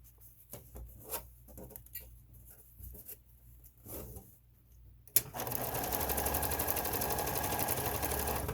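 A sewing machine top-stitches a fabric face mask, starting with a sharp thunk after soft handling noises and then running steadily and loudly in a fast, even whir.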